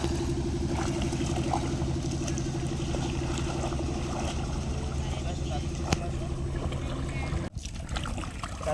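Boats travelling on a river in the Sundarbans, with a steady low engine drone running throughout and a brief dip near the end, while people talk over it.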